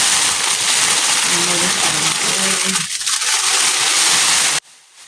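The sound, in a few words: shrink wrapping with heat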